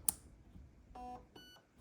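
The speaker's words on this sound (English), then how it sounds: "You hear those two beeps? That means you're now in programming mode." Two short electronic beeps from an airsoft gun's HAL MOSFET trigger unit entering programming mode, one right after the other, each a steady high-pitched tone, following a faint click; quiet and otherwise still.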